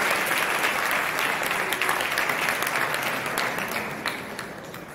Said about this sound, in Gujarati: આપણે એમના સન્માનને તાળીઓથી વધાવીએ.